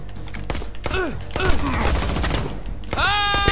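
Gunfire in the shooter XIII Remake, sharp shots breaking out in short bursts, loud and close, with groaning voices and game sounds around them.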